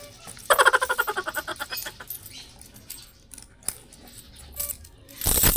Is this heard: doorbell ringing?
no